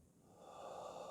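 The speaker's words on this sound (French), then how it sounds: "Baillez." A quiet, drawn-out breath during a yoga stretch, an open-mouthed inhaling yawn that swells slightly over about a second, soft and close with no voices.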